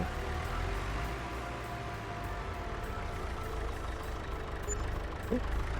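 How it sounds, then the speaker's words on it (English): Loud tractor engine in Farming Simulator 22 runs steadily throughout, a continuous low rumble with a faint brief click near the end. "Nice loud tractor."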